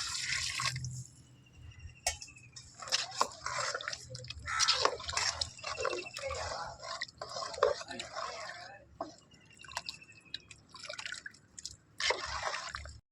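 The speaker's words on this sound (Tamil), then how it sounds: "இந்த புளி தண்ணி அதில் சேர்த்துக்கிறோம்." Liquid splashes and drips as tamarind water is poured into a pot of curry, in uneven bursts close by, with a voice talking over it.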